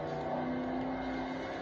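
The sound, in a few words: car passing by in Forza 4 video game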